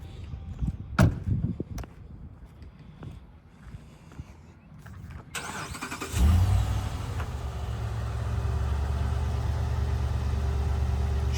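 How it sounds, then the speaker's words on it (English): A 2016 Ram 5500 bucket truck with an Altec boom starts after a few clicks and knocks, its engine catching about six seconds in and settling into a steady, close, low idle. "So we're going to start it up now, operate the boom"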